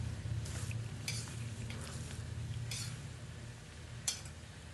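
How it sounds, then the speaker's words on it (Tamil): Papaya jam being stirred in a pan on the stove, a low bubbling simmer under scattered scrapes and clinks of the spoon against the pan, with one sharper clink near the end. "மறுபடியும் நல்லா ஸ்டிர் பண்ணிக்கலாம்"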